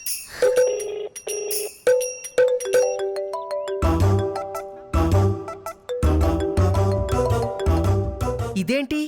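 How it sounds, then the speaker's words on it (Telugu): A phone ringtone plays for an incoming video call, a loud, bright melodic chime repeating its tune over several seconds, ending in a short sweep. "వీడియో కాల్ చేస్తున్నాడు?"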